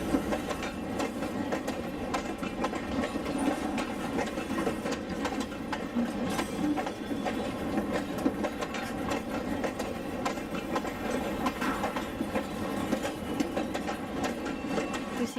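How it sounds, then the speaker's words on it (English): A trio of N scale ST-70 Ace model locomotives haul freight with restored old cars on a layout, a steady close rolling whir and rapid clickety-clack of tiny wheels over rail joints running continuously, with no voices. "We see a trio of ST-70 Aces hauling freight with some of the KJRR's restored old cars"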